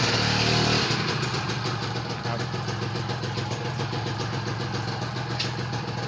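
Honda Nova Tena four-speed motorcycle engine running after a clutch repair, a steady close idle with rhythmic pulsing exhaust and faint shifting clunks, with someone speaking over it.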